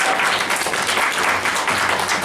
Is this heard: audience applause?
yes